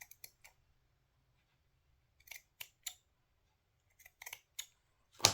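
Scissors trim paper for a wrap-around folio craft project in a series of crisp, close snips, three quick cuts, a pause, then more clustered snips ending in a louder final cut, with a quiet room behind.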